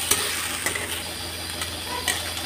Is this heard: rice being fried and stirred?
yes